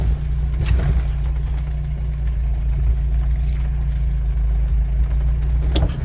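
A four-wheel drive vehicle rumbles along a national forest road, its engine a loud, steady low drone heard from inside with faint rattles over the top.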